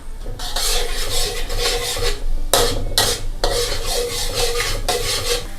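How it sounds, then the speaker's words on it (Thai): Garlic stir-fried in sesame oil in a pan over gentle heat, a steady scraping, rasping stir with brief louder bursts of utensil on metal, close and continuous with no voices. "ผัดกระเทียมนะคะกับน้ำมันงาค่ะ"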